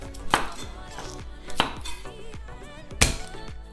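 Onion being chopped into quarters with a knife on a board while making souvlaki: three sharp, separate cuts spaced about a second apart, close and clear with no talking.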